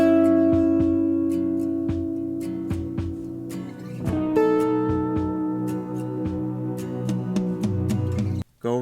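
Electric guitar plays a second track of single notes with offset rhythm, sustained tones ringing steadily over layered parts, close and moderately loud with no talking.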